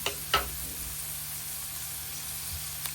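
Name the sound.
garlic and onion frying until golden brown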